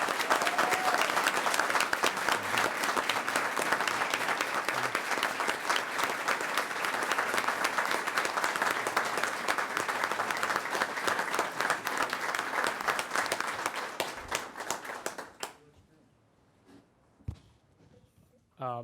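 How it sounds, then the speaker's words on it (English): An audience at a school board meeting applauds college students on scholarships in a long, dense burst of clapping that runs for about fifteen seconds before stopping abruptly, followed by a few faint scattered sounds. "and I think we owe them a round of applause."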